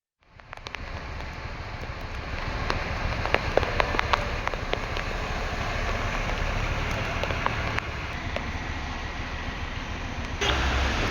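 Heavy rain pours down in Vijayawada during flooding, a dense steady roar of drops hitting surfaces with scattered sharper splashes, close and continuous throughout without voices.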